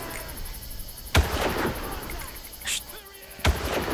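Sniper rifle shots in the Far Cry video game: two sharp, loud reports about two seconds apart, each with a short ringing tail, over a steady game ambience with some faint incidental sounds between them.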